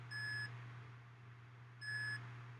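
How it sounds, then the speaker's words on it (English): TerraMaster F5-422 NAS sounding two short, steady electronic beeps about a second and a half apart, with a constant low hum from the unit running underneath. "We've got still beeping sound"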